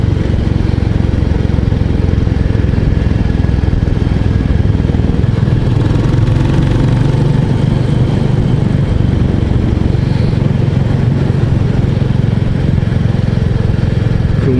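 A 2024 Royal Enfield 350 Bullet single-cylinder motorcycle engine drones steadily while riding, a loud low rumble with mechanical clatter and wind noise, continuous and unbroken throughout.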